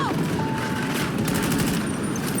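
A SIG MCX rifle fires in a video game, a rapid burst of loud shots over a busy game soundscape with an electronic tone near the start.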